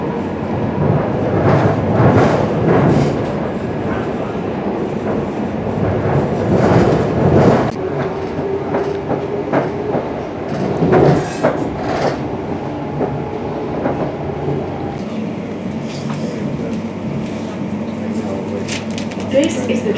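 An Elizabeth line passenger train to Liverpool Street rumbles steadily along the rails with rhythmic clacks and creaks, the loud ride continuing under faint background voices.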